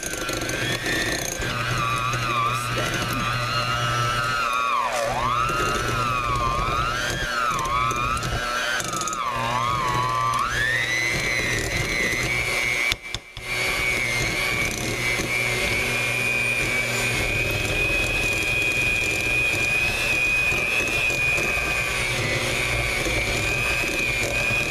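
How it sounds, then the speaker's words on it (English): Electric hand mixer creaming butter and powdered sugar for gingerbread snowball cookies, a loud continuous whirring drone with shifting pitch as the beaters work, running alone with only a brief dip midway. "I'm going to cream up my butter about 20 seconds."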